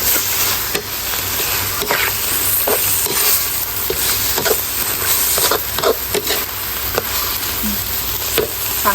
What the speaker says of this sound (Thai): ใส่พริกแกงลงไปเลย